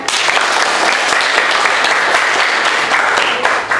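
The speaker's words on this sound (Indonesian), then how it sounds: "Tepuk tangan." Sixth-grade pupils in an Indonesian elementary school classroom clap together, loud, close and continuous applause that lasts nearly four seconds with no talk over it.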